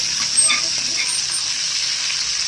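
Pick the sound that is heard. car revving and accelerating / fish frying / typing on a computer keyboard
fish frying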